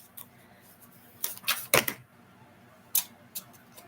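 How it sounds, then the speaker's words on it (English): Deck of tarot-style cards being shuffled by hand, a few quick crisp riffles and flicks close by in short bursts, with no voices. "Let me try shuffling again."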